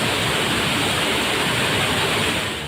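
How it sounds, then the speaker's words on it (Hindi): A waterfall in Uttarakhand surging with a sudden torrent of floodwater pours continuously as a loud, dense roar of gushing water with no pauses, close and overwhelming throughout. "जलप्रपात में अचानक इतना तेज पानी आया कि आसपास के दुकानदार ही नहीं, पूजा करने आए लोग भी भाग खड़े हुए।"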